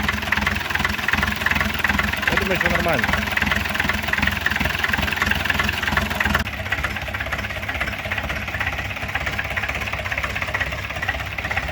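A small homemade tractor engine, a 4Ch8.5/11 diesel, idles steadily with a rough, knocking rhythm, running throughout while a voice briefly speaks over it.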